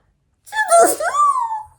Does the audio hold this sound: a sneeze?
yes